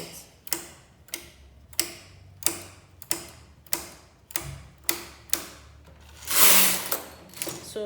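Brother knitting machine carriage pulled across the needle bed while knitting a scarf, making a regular series of sharp clacking strokes about every 0.6 seconds, close and clear, ending in a brief louder whirring rush.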